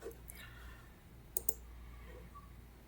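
A couple of quick, crisp computer mouse clicks close together while operating SolidWorks CAD software, faint over quiet room hum with no talk.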